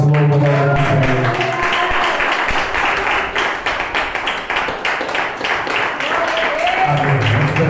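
A church congregation breaks into applause after a sermon. Clapping builds into a dense run of sharp claps that fades out at the end, with a voice speaking before and after.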